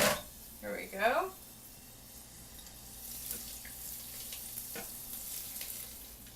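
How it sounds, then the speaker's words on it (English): Hot simmering garlic and oil is poured onto chilled cauliflower, giving a short sizzling splash near the start, then a faint hiss under a quiet room background. "we are also going to add our garlic and oil, which is still simmering on the stove"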